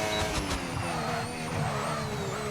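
Race car speeding down the main straight at Monza in a racing video game, a steady loud engine whine with falling pitch tones sustained throughout, no voices.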